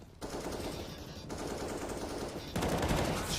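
Rapid automatic gunfire from a NaVi vs Gambit esports match fills the clip with dense, continuous bursts that swell louder toward the end, with no talk over them.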